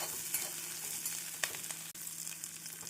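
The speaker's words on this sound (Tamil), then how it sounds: "நாம் கடுகு பொரியவும் வெங்காயத்தை சேர்த்து விடலாம்." Onions with curry leaves and green chillies frying in hot oil for a cauliflower stir-fry, giving a steady soft sizzle with faint crackles and a brief stir or clink, with no talk.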